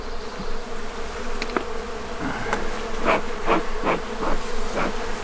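Honeybees swarm thickly around a crowded beehive, a dense, continuous buzz close by, with a few soft knocks and taps mixed in.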